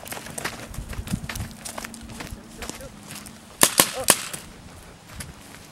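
Gunfire from an amateur Vietnam War film: three sharp, loud shots close together near the middle, with shouting voices and scattered background noise around them.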